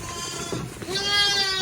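Pet lambs bleating loudly and close by in pens while drinking, overlapping high wavering calls without pause.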